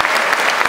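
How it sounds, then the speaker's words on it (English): Audience applause at an equine fair, a brief dense burst of clapping from a crowd, loud and close, heard alone without talk. "Give her a round of applause."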